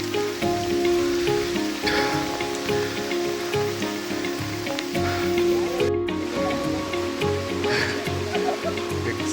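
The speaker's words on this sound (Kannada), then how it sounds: "ಮಳೆ ಬೇರೆ ಹೆವಿ ಆಗಿದೆ" Heavy rain falls on a foggy Kodachadri hill trek as a dense, constant patter on surfaces around the listener, steady and enveloping with no breaks.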